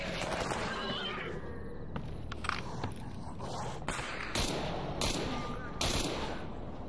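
Gunfire rings out in the game Stalker Anomaly, several sharp shots and short bursts cracking over a busy background of game noise, with a voice talking at times.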